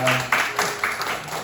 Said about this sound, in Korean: 우리 박수로 우리 환영해 주시겠습니다